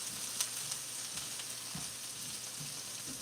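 Chopped onions sizzling and being tossed in a hot pan on a stove, a steady soft fry with a few brief scrapes and knocks, quiet and even throughout.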